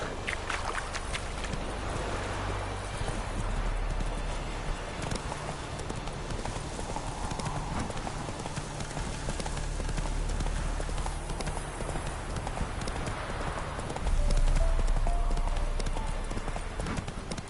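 Video-game horse Roach gallops in a steady, rapid clip-clop of hoofbeats over a dense outdoor ambience, growing louder and heavier near the end; faint voice-like sounds are buried in the mix.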